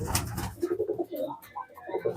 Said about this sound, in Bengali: দেখতেই পাচ্ছ রেসার পায়রাটা